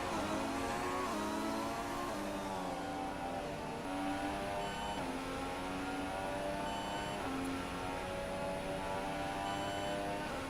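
Formula 1 car engine screaming at high revs on a flying qualifying lap in the racing game F1 2016, loud and continuous with rising pitch sweeps as the gears shift up, no speech over it.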